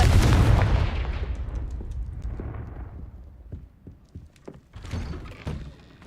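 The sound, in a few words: Confringo blasting curse explosion in a Harry Potter video game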